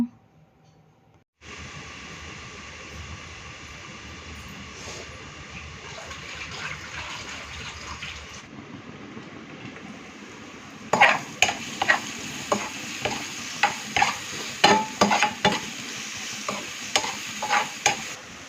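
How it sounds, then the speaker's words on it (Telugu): Onion pieces sauté in a pan with salt, giving a soft, steady sizzle. Sharper scraping stirring sounds join later, all faint and fairly close. "సాల్ట్ వేసి అయితే ఆనియన్ ముక్కలను అయితే మగ్గించుకుంటున్నాను"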